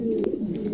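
A Lahori pigeon gives a short, low, close coo, a single soft burble lasting under a second.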